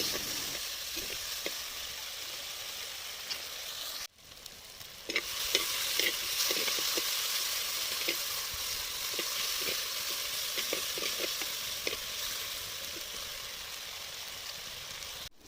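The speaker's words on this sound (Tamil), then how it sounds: "இப்போது தக்காளி நல்லா வதங்குற வரையும் நல்லா கலந்து விட்டுக்கலாம்." Tomatoes frying with onion and garlic in a pan for mochai kottai kulambu are stirred continuously, giving a steady close sizzle with repeated scraping strokes of the spoon, briefly cut off near the start, with no talking.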